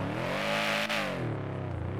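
A supercharged big block Chevy street truck engine in GTA5 revs with a rising, whining tone that sweeps up and eases off, loud and close, with no talk over it.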